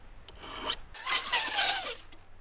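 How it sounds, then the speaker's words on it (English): Steel file rasping across crosscut saw teeth, sharpening the cutters and rakers for trail logout work; a few short close strokes, the later ones longer and stronger, with no talk. "6 people a year are also trained to sharpen the saw teeth that are called cutters and rakers."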